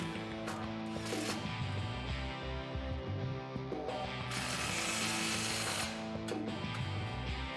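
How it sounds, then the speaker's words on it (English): Power tool with a 15 socket tightening an exhaust clamp on a RAM 1500 dual exhaust install, heard as a steady rattling mechanical whir with ratcheting and rising and falling motor pitch, close and continuous throughout. "Grab your 15 socket and tighten down that clamp."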